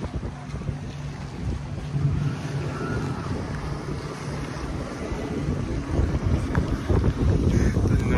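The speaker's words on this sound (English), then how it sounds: "there's a lot of waves crashing right into my kayak here." Lake waves slosh and crash against a kayak amid strong wind rumble on the microphone, a continuous close, loud splashing wash.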